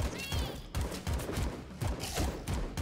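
Rapid bursts of AK-47 fire in a roguelike game, repeated volleys with sharp broadband cracks every half second or so, loud and close with game sounds layered underneath.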